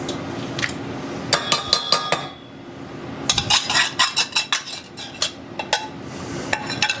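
Egg yolks and sugar go into a heavy saucepan in a home kitchen, making a series of sharp metallic clinks and taps of a utensil against the pan, in bursts of several quick knocks separated by short pauses, with no talking.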